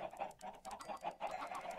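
Minecraft chickens clucking on the Mianite server, a rapid string of short, close clucks in an uneven rhythm with no talk over them.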